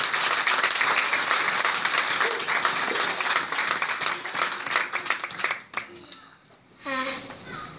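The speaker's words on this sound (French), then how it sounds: "Can you clap for Jesus?" A church congregation at a French-English service bursts into loud, dense clapping for Jesus that runs for several seconds, then thins out and fades, before a voice begins speaking.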